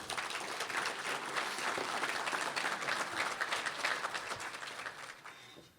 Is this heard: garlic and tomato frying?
no